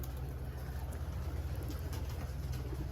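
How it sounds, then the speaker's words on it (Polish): A marathon racing pigeon coos in low, continuous throaty pulses, close and steady over a humming loft background. "Bardzo ładny gołąb."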